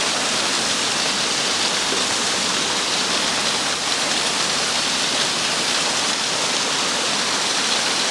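A Black Forest waterfall roars as a dense, continuous rush of falling water, loud and close, with no other sounds over it.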